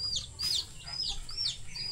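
Pet chickens cluck while feeding, giving a run of short, sharp, repeated calls at close range over a low background hum.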